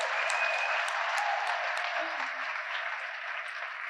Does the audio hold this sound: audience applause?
yes